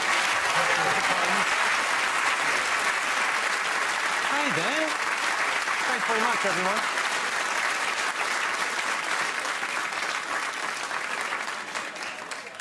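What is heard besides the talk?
studio audience applause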